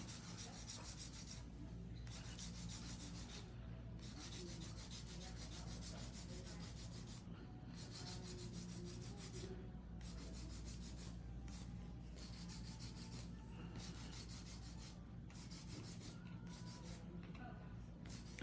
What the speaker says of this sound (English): Some hand filing, even up the surface area, just like how I did earlier.